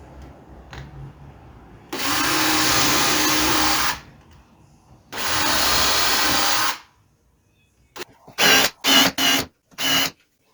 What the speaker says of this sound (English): I'm going to drill, countersink and screw them to the crosscut sled